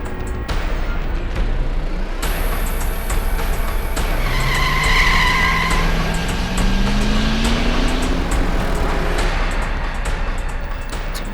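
A car speeding down a steep road, its engine roaring loudly and continuously with a rising whine and sharp tyre squeal, dense and close throughout with no talking.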